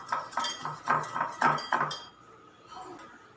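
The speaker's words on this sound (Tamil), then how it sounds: "ஒரு பவுல்ல 2 முட்டை எடுத்து அது நல்லா நம்ம பீட் பண்ணி வெச்சுக்கலாம்." Two eggs are beaten in a bowl with a utensil, giving a quick series of rhythmic clinking taps against the bowl for about two seconds before fading to quiet background.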